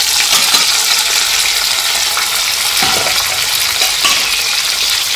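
Chili, onion, tomato, garlic and ginger paste going into a hot pan, a loud, steady sizzle with scattered clinks and scrapes of a spoon against the pan, no voices.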